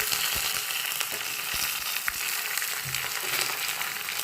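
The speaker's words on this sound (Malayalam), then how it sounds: "വറ്റൽമുളക് ഇട്ടുകൊടുത്ത് കുറച്ച് കരിവേപ്പില ഇട്ടുകൊടുത്ത്" Dried red chillies and curry leaves crackle and sizzle in hot oil, giving a loud, continuous frying hiss with scattered pops and a few faint knocks throughout.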